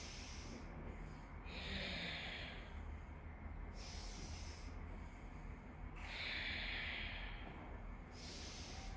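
Slow, deep breaths drawn in and pushed out through the nose during a yoga session, each a soft airy hiss lasting a second or two, repeating in a steady, unhurried rhythm close to the mic.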